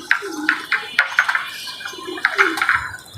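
Pigeons at a home loft scurrying about, with quick close flutters and scuffling taps in short bursts and a few soft low coos in between.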